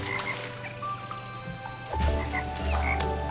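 A frog in Toki Tori 2 croaks in low, throaty pulses that swell over a steady game soundtrack with light chirps, repeated a couple of times.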